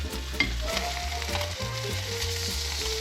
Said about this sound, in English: nice sear in these fish